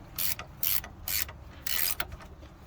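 A ratcheting spanner undoes a bolt on a Ford Transit during a wheel bearing replacement, giving four bursts of close, loud clicking with short gaps between.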